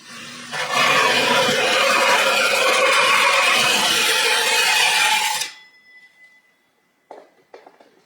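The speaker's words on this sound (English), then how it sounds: "take your hole saw from the back side of the drywall" A steady, loud grinding rasp of a hole saw cutting partway into drywall from the back side for about five seconds, then it stops, followed by a few faint knocks.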